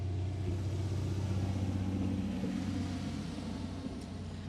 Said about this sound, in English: maybe I'll just wait for this power pole truck to go past because it'll be a bit noisy